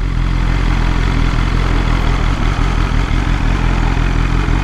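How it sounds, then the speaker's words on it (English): A 2023 BMW S1000RR with a stage 1 flash idles just above 1500 rpm, a loud, close, smooth and steady engine burble that holds unchanged throughout with no talking. "Got a real smooth idle, very consistent, right? It's sitting there right above 1500."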